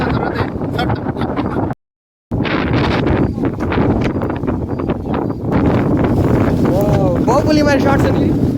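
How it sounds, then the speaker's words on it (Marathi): Strong wind before a storm buffets the microphone in rough, roaring gusts with one short dropout, while people talk over it. "वारा तर असा आहे जणू काही तुफानच येणार आहे."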